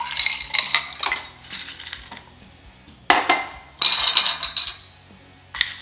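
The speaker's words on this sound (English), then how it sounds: "Now we'll add in our crushed ice." Crushed ice tumbles into a mint julep glass in several clattering bursts, close and bright, with icy clinks between short pauses.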